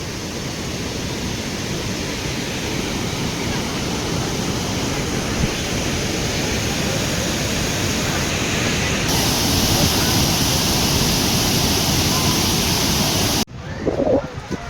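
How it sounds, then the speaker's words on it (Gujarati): Water pours from Khodiyar dam at Galdhara in a loud, continuous rushing roar, close and unbroken, ending in an abrupt cut with a faint scrap of other sound. "મિત્રો જસ્ટ તમે જોઈ શકો છો યાર પાણીનો પ્રવાહ જુઓ"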